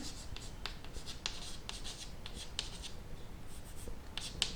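A pen scratches on paper while a class 10 trigonometry problem is worked out. Soft intermittent strokes and taps run throughout, close and fairly quiet.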